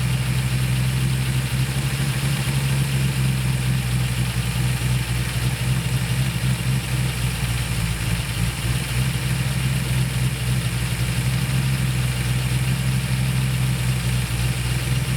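The engine of a 1966 Ford Mustang idles steadily and loudly at close range while its carburetor idle mixture screws are adjusted. It keeps a constant low rumble with no revving and no talk.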